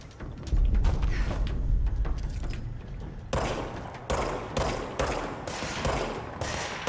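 Pistol gunfire in the video game Control from an upgraded, powerful sidearm: a run of loud sharp shots, rapid at first and then spaced bursts with brief gaps, over a low game rumble and no talk.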